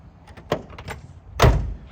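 A few light clicks and rattles, then a solid thud as the door of a 1970 Chevelle SS shuts, fairly close.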